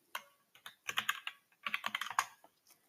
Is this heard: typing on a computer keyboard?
yes